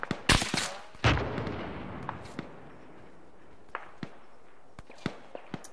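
An AT gun or howitzer firing in ARMA 3: two heavy, sharp blasts close together near the start, then fainter distant cracks and thuds scattered across the rest.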